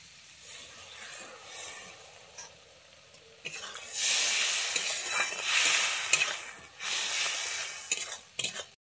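Water poured into hot oil in a pan of egg curry bursts into loud, bright sizzling and hissing in uneven waves, with stirring scrapes and a few clinks of utensil on pan.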